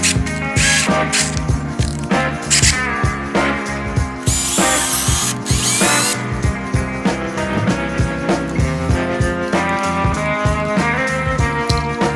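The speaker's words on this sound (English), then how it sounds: "It's a drill bit and tap all in one." A power drill with a combined drill bit and tap whirs loudly in repeated bursts with ratcheting mechanical clicks, stopping and starting as holes are drilled and tapped for door hardware.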